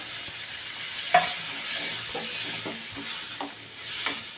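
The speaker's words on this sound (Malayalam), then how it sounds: "തേങ്ങയൊക്കെ കൂടി അരച്ച് വെച്ചില്ലേ ആ പേസ്റ്റ് ഇടുകയാണ് ഇതിനകത്തെ" Ground coconut paste goes into a hot pan, with sharp stirring scrapes and a soft hiss of frying heard up close, several spoon strokes over a steady background sizzle.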